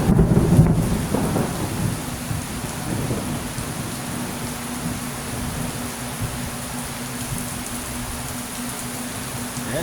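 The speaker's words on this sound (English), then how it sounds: "Got a little thunder coming." Thunder rumbles low and rolling through steady heavy rain during a Florida downpour, a louder crack at the start fading into a continuous hiss of rain hitting surfaces.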